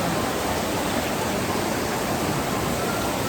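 Awao Falls pours down in a constant, dense roar of falling water, heard up close and steady throughout with no other sounds.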